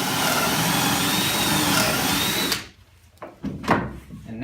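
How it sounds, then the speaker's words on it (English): A power drill bores a hole in wood, its loud, steady whirring running continuously for about two and a half seconds before cutting off, followed by a few faint knocks and handling sounds. "when you're kind of drilling a hole, you call it boring"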